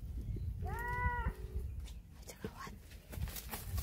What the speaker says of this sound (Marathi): बकरी आहे त्या काकूंच्या.